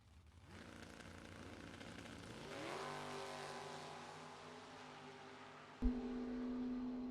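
A 1967 Chevy Camaro and a Nova race side by side on a drag strip, engines roaring and climbing in pitch as they launch, then a sharp loud burst near the end, heard from a distance.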